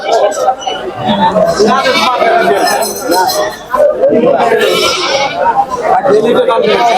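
Goats bleating at a roadside cattle and goat market in Tangail, repeated close calls rising over a busy crowd with people talking and bargaining nearby.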